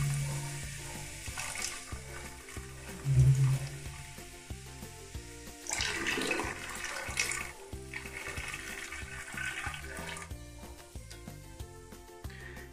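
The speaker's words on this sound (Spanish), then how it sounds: "Vamos a utilizar nuestra deliciosa Coca-Cola y la vamos a vaciar en la taza del baño." Half a litre of chilled Coca-Cola is emptied into a toilet bowl, giving a steady watery splash and gurgle under background music, with a louder surge around the third second.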